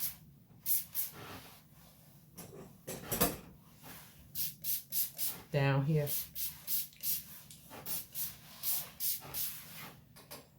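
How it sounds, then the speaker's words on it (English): A spray bottle squirts in a quick run of close, crisp hissing bursts, with a short bit of speech in between. "just spray some water on the loose hair"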